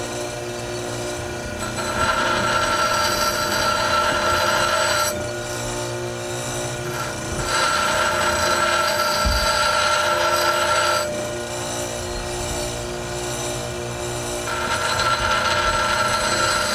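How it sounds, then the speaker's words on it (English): A grinder works an old Nicholson file into a flint-and-steel striker, the metal rasping in loud sustained passes that swell and ease in regular cycles of a few seconds, with no talking. "I'm gonna grind this off to make it smooth."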